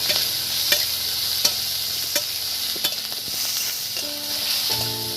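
Green chillies and onion hit hot mustard oil with popping mustard seeds, giving a steady close sizzle broken by sharp spatula clicks about every second, with a denser hiss near the end.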